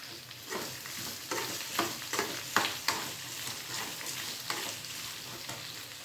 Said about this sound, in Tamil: அதுலேயே வதக்கிறதுக்கு அந்த முள்ளங்கியும் போட்டு அதில் வதக்கணும்.